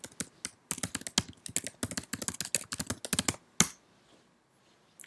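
Rapid clattering keystrokes on a computer keyboard, typed in quick uneven bursts close up for about three and a half seconds, then a final sharp key tap and near silence.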